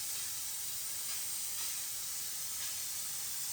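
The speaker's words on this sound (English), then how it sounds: "we use steam to clean the entire tile area, removing all the dirt and grease" A steam cleaner on bathroom tiles and grout gives off a continuous, fairly loud hiss of steam, a broad even spray sound with slight surges, no voices.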